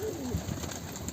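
A pigeon gives a soft, low coo, brief and close, over a faint background hiss, near a rooftop loft.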